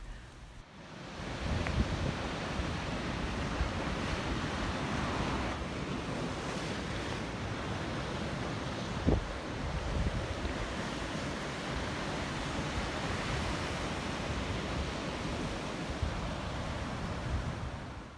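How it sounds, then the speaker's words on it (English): Cool sea breeze buffets the microphone at a beach near Riverton, New Zealand, a steady roaring rush with surf, alone and unbroken for the whole stretch. "The sea breeze is cool"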